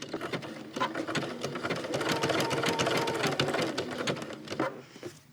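Domestic sewing machine stitching a buttonhole, a close, steady rapid needle chatter that speeds up through the middle and slows toward the end, with no talking.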